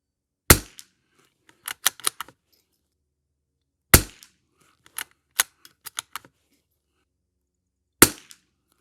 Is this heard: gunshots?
yes